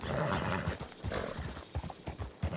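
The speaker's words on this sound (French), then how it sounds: "j'ai appelé mon cheval et il vous a barré la route." A trained horse answers its rider's call, hooves clopping in an uneven run of thuds close by, along with a brief whinny near the start.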